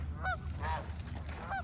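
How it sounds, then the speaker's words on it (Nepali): Geese or ducks at Loch Raven Reservoir give three short, nasal honks spaced apart, moderately distant over a low outdoor rumble, with no talking. "यहाँ हाँसहरू टन्न पाइन्छ।"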